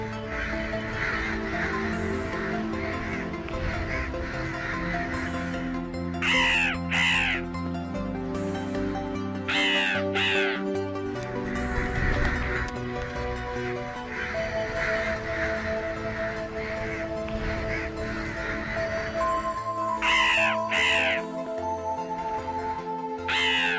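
A man mimics crow calls with harsh, nasal caws in quick pairs and short bursts, repeated several times over continuous background music.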